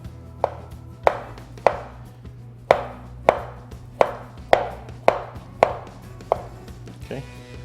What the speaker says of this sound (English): And you wanna cut this up into small cubes.